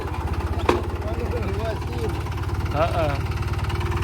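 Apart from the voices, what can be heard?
tractor engine idling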